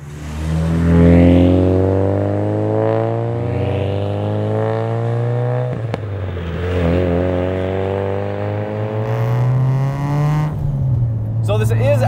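Mitsubishi Lancer Evo 8 with a 2.3-liter stroker turbo engine on E85, heard from inside while driving: a loud, steady engine drone rising and falling through gear changes, with people talking over it throughout.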